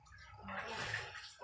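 Water runs from a hand-operated tap at a Thai house, a steady close splashing flow that swells in the middle and eases off near the end.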